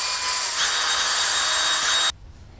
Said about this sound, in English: we're going to try to clean this up using a big powerful drill on the fast setting